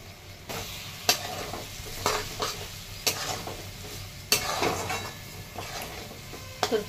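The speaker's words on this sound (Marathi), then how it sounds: "तर तेल सुटेपर्यंत छान परतून घेतलेलं आहे भरीत।" Eggplant bharit stir-fried in oil in a pan, with repeated scraping spoon strokes against the pan every second or so over a steady sizzle, close and clear, no voices.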